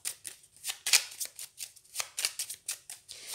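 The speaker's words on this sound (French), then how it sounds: "je vais recouvrir ces cartes-là" Tarot cards being laid down over other cards during a reading: a quick run of soft, papery slaps and swishes, close and fairly quiet, with no talking.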